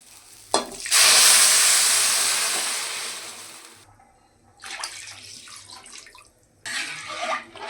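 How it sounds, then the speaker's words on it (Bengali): Water pours into a pot of fried rice and lentils for Bengali khichuri, a loud rushing splash and sizzle that fades, then comes back in shorter bursts of pouring and stirring. "এবার আমি জল দিয়ে দেব।"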